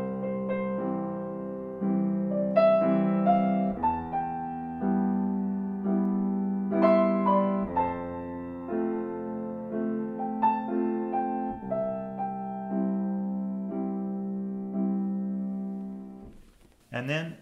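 Piano playing a steady jump bass accompaniment, low bass notes alternating with chords in the middle register beneath a melody, continuous and moderately loud.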